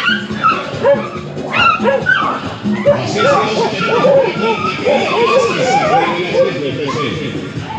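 A crowd of dogs keeps up a constant chorus of yips, barks and whimpers close by, mixed with people talking over the din.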